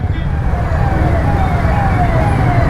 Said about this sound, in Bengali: ও ভাই অ্যাম্বুলেন্স